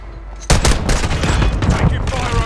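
Rapid gunfire from Call of Duty Modern Warfare 2 (2022) bursts in after a half-second lull, dense crackling shots continuing loud and steady with a voice briefly heard amid the action.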